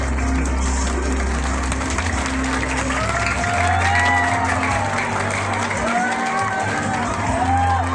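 Applause and cheering from a live audience at a comedy show with a Vice Ganda lookalike, a dense steady wash of clapping and crowd noise under loud music with a strong low beat, voices shouting over it.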